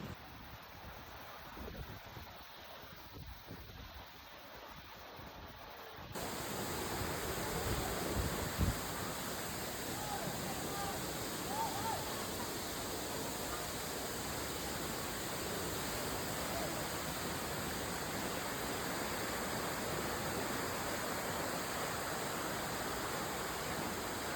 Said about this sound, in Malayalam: വെള്ളച്ചാട്ടം തന്നെയാണ്